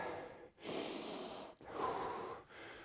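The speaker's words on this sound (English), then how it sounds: "Slow my breathing." Heavy, forceful breathing during a bodyweight push-up workout: three long, loud breaths close to the mic, each separated by a brief pause, with no talk.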